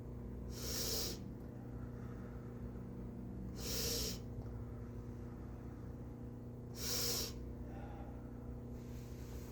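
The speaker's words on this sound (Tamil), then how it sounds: "மூச்சு எடுத்து வெளி மூச்சு விடுங்க." Slow breaths during a breathing exercise, three soft airy hisses spaced a few seconds apart over a steady low hum, close and fairly faint, with no talking.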